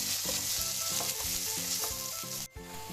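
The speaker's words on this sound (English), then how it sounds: "So our onions, they've gone translucent and dal is slightly browning" Onions, dal and curry leaves fry in a pan for tomato rice with a loud, close, continuous sizzle, while a spatula stirs in a steady rhythmic scraping, briefly stopping near the end.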